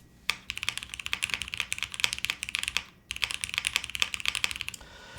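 Fast, steady typing on an Alexa mechanical keyboard with gasket mount, a dense run of crisp clacks with a brief pause midway and a trailing stop, close and clear with no talking.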